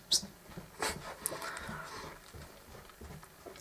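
A dog pants and whimpers close by, with short sharp whines and quick breathy pants scattered over a quiet background.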